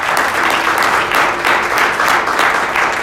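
Congregation applauding in a church service, a dense steady wash of many hands clapping at once, loud and continuous throughout with no break.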